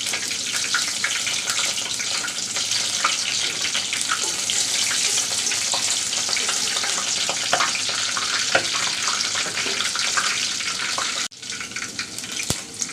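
Chopped garlic frying in hot oil in a village-style kitchen for a tengra fish curry with taro, a loud, dense, continuous sizzle with scattered pops and stirring scrapes, cutting out briefly near the end before resuming.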